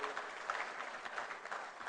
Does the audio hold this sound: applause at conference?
yes